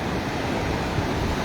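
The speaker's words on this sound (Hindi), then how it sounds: "अज का पानी अज का रेला काफ़ी तादाद है।" Floodwater after heavy overnight rain on Koh Suleman rushing as a steady, dense roar from near Tal Sanghar, Taunsa, loud and unbroken with no voices.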